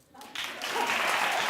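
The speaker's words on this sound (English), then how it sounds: "clap if you would." A talk-show studio audience breaks into applause, swelling quickly from near quiet into a full, steady wash of clapping.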